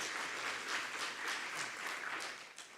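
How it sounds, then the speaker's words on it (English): A conference audience at a research gathering on forced displacement gives a sustained round of clapping. It sounds faint and distant, with an even, dense texture that tapers slightly at the end. "give one more big round of applause"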